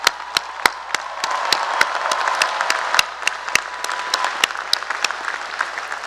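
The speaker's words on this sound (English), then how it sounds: "Can we give one big round of applause to those here today?" A crowd at the Rutgers University–New Brunswick and Rutgers Health commencement breaks into sustained applause, a broad wash of clapping punctuated by sharp individual claps standing out nearby.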